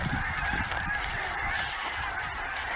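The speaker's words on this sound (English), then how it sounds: "I've never seen so many geese in one place." A large flock of thousands of geese honks continuously on a lake, a dense, loud chorus of overlapping calls with no talk.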